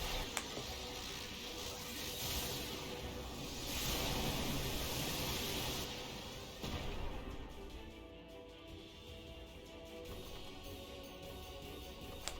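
A game controller gives off a faint, persistent mechanical rattle and buzzing whir, uneven and grating, continuing alone without talk across the whole stretch.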